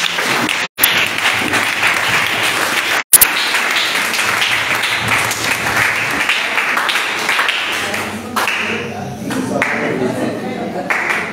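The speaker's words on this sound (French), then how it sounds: "Acclame pour Jésus-Christ." A church congregation at a charity service applauds loudly and steadily for Jesus Christ, a dense roar of clapping with cheering and voices mixed in, sustained for several seconds before easing slightly.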